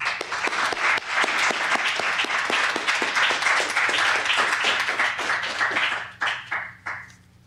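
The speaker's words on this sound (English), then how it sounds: "Let's give him a great round of applause." An audience at a 1997 poetry recital at the San Francisco Public Library bursts into sustained, loud applause, with dense clapping that holds steady before thinning into a few final claps.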